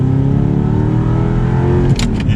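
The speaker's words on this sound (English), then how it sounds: "listen to my rev matching" A manual Audi R8 sports car engine revs loudly and steadily with a strong harmonic drone while rev matching, then briefly dips near the end as the revs shift.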